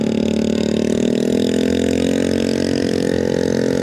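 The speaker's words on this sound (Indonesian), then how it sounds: "ini motor kagak ada knalpotnya teman-teman" Motorcycle engine with no exhaust muffler, heard amid holiday-exodus traffic on Java's southern route near Bandung, giving a loud, steady, raw droning rumble that holds close and continuous throughout.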